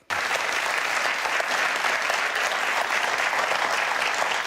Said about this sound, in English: Let's see if they're still applauding by the end of this 18-minute section.